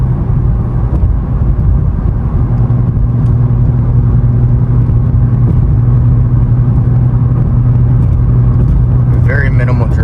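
A Nissan 370Z fitted with a DC Sports single-exit exhaust and Y-pipe cruises at about 65 mph, giving a steady, loud low engine drone and road rumble with no break from start to finish.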